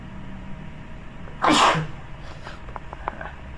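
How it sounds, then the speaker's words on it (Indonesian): A single loud, sharp sneeze bursts out abruptly in a quiet room, brief and close, then fades into low background hum with faint small noises. "sering bersin itu, maaf."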